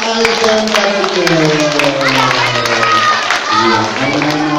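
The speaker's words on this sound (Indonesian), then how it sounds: "Tepuk tangan untuk Paman Aisyah Barito." A children's audience at a storytelling show claps and cheers. The dense clapping is mixed with excited young voices, and an adult voice speaks over it.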